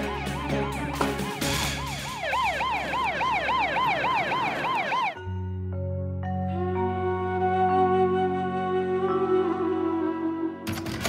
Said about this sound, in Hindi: अरे पुलिस आ रही है, तुझे सायरन की आवाज सुनाई नहीं दे रही?